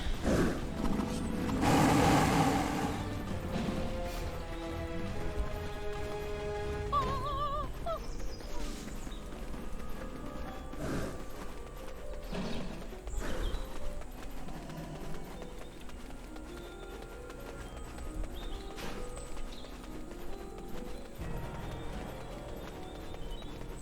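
Steady clip-clop of horse hooves walking in Black Desert Online, mixed with game music and ambient effects, with a loud burst near the start.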